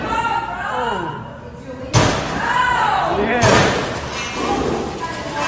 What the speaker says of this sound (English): a dude just kicked a door and broke the glass